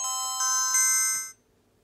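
A Wonlex KT03 kids' smartwatch with a touchscreen plays a short bright startup chime of a few rising electronic tones, close and clear, then falls silent.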